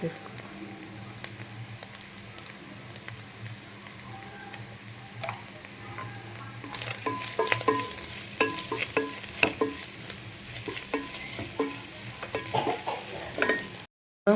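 Fish and carrot frying in a pan as garam masala is added, a continuous sizzle that grows louder and busier partway through, with frequent spoon scrapes and taps and chickens clucking faintly in the background.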